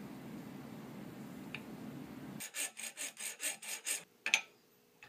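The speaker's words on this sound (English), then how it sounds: "you slowly scrape down the high spots until the part approaches the reference surface" Hand scraping of high spots on a metal lathe carriage: a soft rubbing hiss gives way to a run of about seven rhythmic, evenly spaced scraping strokes, close and fairly quiet, ending with a sharp tick.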